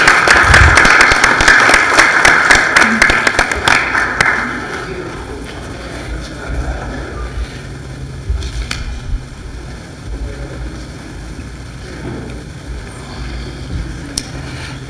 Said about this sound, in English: Another round of applause for an outstanding technical rescue team.